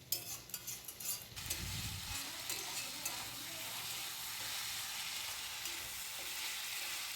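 Mutton and tomato sautéing in a pan, a steady continuous sizzle throughout with some stirring scrapes at the start, close and moderately loud, no talking.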